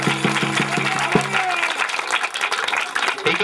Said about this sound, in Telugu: అందుకు క్లాప్స్ కొట్టి దేవుని మహిమపరుద్దాం.